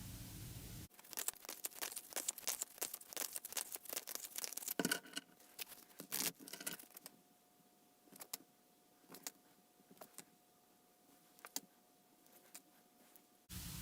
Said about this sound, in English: you saw me shuffle these cards